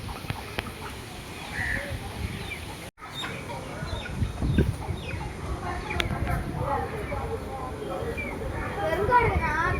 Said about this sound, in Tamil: கோழி எல்லாமே வளர்க்குறாங்க பெரியம்மா வந்து.